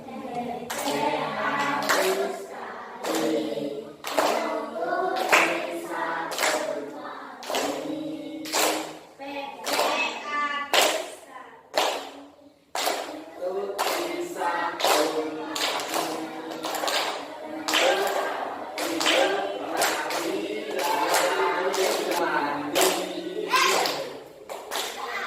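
Children in a classroom clapping hands in a long run of quick, sharp, evenly paced claps, loud and close, with a few voices mixed in.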